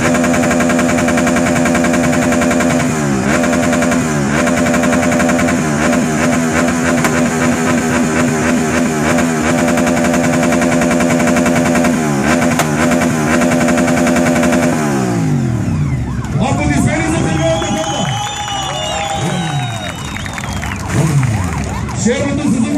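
Red Honda motorcycle at a loudest-bike contest, its engine revving hard in repeated sustained bursts for about fifteen seconds, then dropping off as a crowd cheers and applauds with voices shouting.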